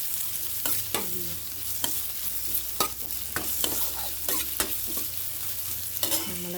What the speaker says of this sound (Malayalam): സവാള ഇട്ട് കറിവേപ്പില ഇട്ട് നന്നായിട്ട്